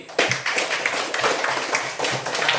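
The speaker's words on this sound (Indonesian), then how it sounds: "Mari kita beri tepuk tangan untuk kita semua pada hari ini." Classroom applause during an Indonesian lesson on computational thinking, a burst of many hands clapping together with a few sharp taps, close and fairly loud, without voices.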